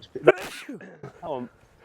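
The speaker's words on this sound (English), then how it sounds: "Are you hearing me sneeze here?" A man sneezes once sharply, close and loud, during a golf club fitting session, followed by brief breathy vocal sounds and murmured talk.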